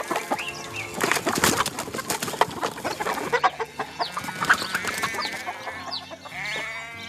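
Hen clucking in a farmyard story sound effect, busy repeated clucks and squawks from several chickens with a sheep-like bleat mixed in, loud and close with no talking.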